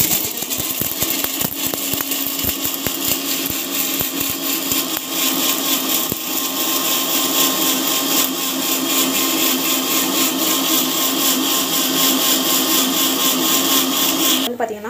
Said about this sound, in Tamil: நம்ம வந்து மிக்சியில் போட்டு அரைச்சிக்கலாம்